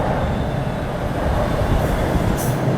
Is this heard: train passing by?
yes